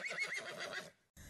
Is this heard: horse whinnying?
yes